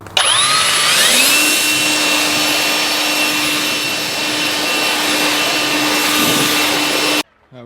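Compressed air blasting debris out of the engine bay of an abandoned BMW 335i, a steady loud hiss with a rising whine that runs continuously before cutting off abruptly near the end.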